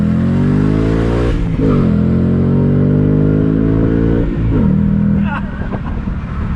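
A supercharged 2021 Shelby GT Speedster Mustang convertible with the top down accelerates on throttle, its engine roaring loudly and climbing through rising pitch sweeps with gear changes, while someone talks over it.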